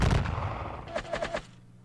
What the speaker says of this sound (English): It's firing a volley back.